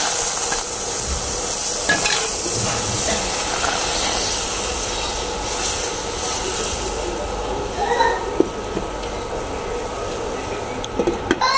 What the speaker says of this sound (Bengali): চাপটি হচ্ছে যে অলরেডি ভাজা হইতাছে